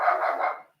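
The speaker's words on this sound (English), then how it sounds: "Sorry for the dog." A dog gives one short, loud bark close by, ending quickly in silence.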